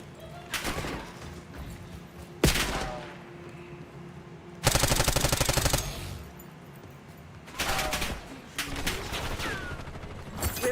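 Call of Duty gunfire comes in loud automatic bursts, including one long sustained rapid volley and several shorter rattling strings, with brief quieter gaps between them.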